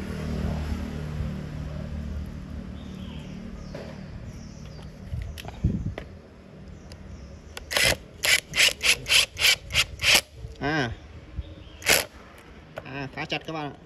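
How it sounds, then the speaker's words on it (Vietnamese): A screw is driven into a wall without a wall plug, with slow scraping and rubbing first, then a rapid series of sharp bursts from a power driver, followed by a few scattered clicks. "Và tiếp theo là mình sẽ thử cái con vít này."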